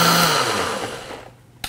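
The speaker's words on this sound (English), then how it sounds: "And then we'll just add our lid and blend this until smooth." A blender blending soup whirs loudly, then winds down and fades toward quiet, ending with a brief click.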